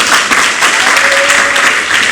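Church congregation applauding steadily and loudly in a sermon setting, a dense continuous wash of clapping lasting the whole moment.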